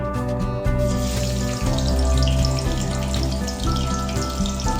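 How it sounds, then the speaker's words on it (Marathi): Garlic sizzling in hot oil for a tempering while smoky charcoal chicken is made, a loud, dense, steady crackle right up close that stays unbroken, with a low hum beneath it. "आता आपण फोडणी करूया."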